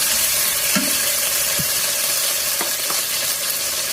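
Ginger dropped into a hot pan sizzles steadily while rice-dish cooking goes on, with a few brief stirring scrapes and clinks of a utensil against the pan over the constant frying hiss.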